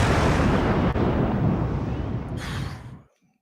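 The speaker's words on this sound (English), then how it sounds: "Do we have more explosions?" A big rumbling explosion effect bursts in loud and full, rolls on for a few seconds with a hissing tail, then cuts off abruptly into silence.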